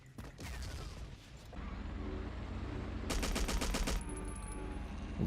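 Machine gun fire in the Battlefield 1942 video game, rapid bursts of shots, first early and then a dense, louder volley in the later part, over a constant rumble of game noise, with no talking.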